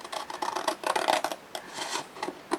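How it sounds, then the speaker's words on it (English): Paper being cut with scissors along a stippled line for a 6x4 mini album: a close run of crisp, rhythmic snips and rasps with no voices. "So we're going to cut on this stippled line here,"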